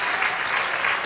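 Church congregation applauding in praise during a Spanish-language worship service, loud, dense clapping from many people filling the whole short moment.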